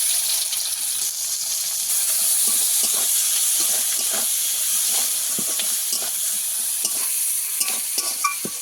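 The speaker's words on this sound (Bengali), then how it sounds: "পেঁয়াজটাকে আমি ভালোভাবে লাল করে ভেজে নেব" Chopped onion and cumin fry in hot oil with a steady, close sizzle and hiss, broken by repeated scrapes and stirs, for a spicy aubergine curry.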